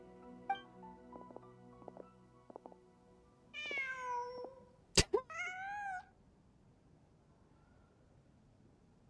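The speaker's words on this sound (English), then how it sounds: "Just a cat." A cat in the Genshin Impact video game gives two distinct meows, a drawn-out call followed by a second one with a click between them, heard clearly over quiet game ambience and soft musical tones.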